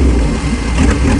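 Chrysler New Yorker engine running just after a cold start in fall, a loud close steady rumble with slight unevenness throughout the short stretch.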